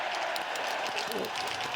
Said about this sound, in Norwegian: det var jubel for Tyskland